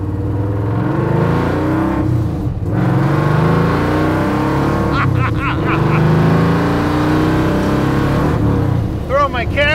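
A 1968 Ford Mustang drives and revs hard, its engine a loud continuous rumble rising and falling with acceleration, heard from inside the car with brief bursts of other noise.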